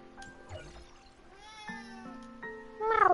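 A pet cat named Kit Kat gives several drawn-out meows, close and fairly loud, the last one rising into a sharper, strained cry, with quiet room noise between calls.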